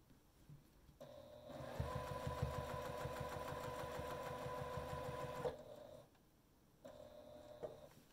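A sewing machine quilting fabric runs in a fast, steady whirring stitch for several seconds, then stops and briefly runs again, close and clear with a faint motor hum.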